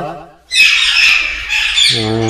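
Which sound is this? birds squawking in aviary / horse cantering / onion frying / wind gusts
birds squawking in aviary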